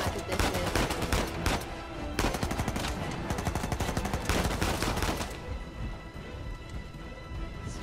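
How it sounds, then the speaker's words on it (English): Dense gunfire from the video game Uncharted 4, rapid bursts of shots crackling loudly and nearly continuously at close range, thinning out toward the end. "they're shooting at us"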